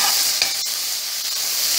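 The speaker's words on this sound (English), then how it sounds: "So sorry to hear the scraping against the pot." A spoon stirs and scrapes against a pot of cooking ackee, a steady close sizzling hiss with a few brief clinks of metal on metal and no talking.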